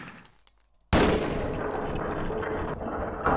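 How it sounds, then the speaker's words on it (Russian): Rapid gunfire from Half-Life played while testing a level built in the Jack editor bursts in abruptly after a near-silent start, a loud, dense volley of shots that continues without pause to the end, with a brief lull near the close. "И теперь можно стрелять обратно."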